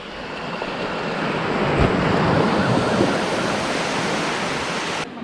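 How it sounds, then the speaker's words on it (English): Waves wash ashore at the small, quiet Holland Beach near Bogmalo in South Goa, a steady broadband surf roar that swells and fades, with some wind over the microphone. "So found a secret beach in Goa."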